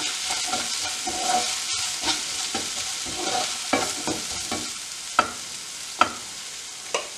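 Sliced onions and green chillies fry in a pan while being stirred for an okra milk curry, giving a continuous close sizzle punctuated by repeated spatula scrapes and knocks, a few sharper clacks near the end, with no voices.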